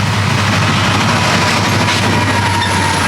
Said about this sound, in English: Right, so the train has gone past now.